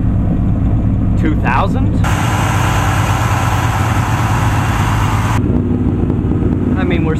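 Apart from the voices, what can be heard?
1983 GMC K10 engine idling at high RPM, Quadrajet carburetor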